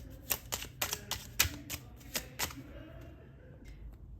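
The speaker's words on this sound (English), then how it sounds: "So, I want to pull out some advice cards for you." A deck of advice cards is shuffled close by, a quick run of sharp riffling clicks and snaps over about two and a half seconds, then a quieter pause with faint handling sounds.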